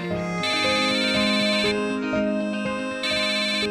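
A loud electronic phone ringtone plays a repeating melodic tune with bright tonal notes, continuous and close, with no voices.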